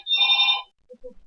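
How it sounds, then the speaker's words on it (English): A telephone gives one short electronic ring, close and clear, then stops, followed by a brief murmur of voice. "oh, that's just the phone going off."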